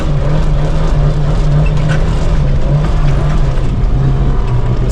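An off-road vehicle's engine drones steadily and loudly while it drives on slick snow near St. George, Utah, in four-wheel drive on aired-down tires, a continuous low rumble with no talking.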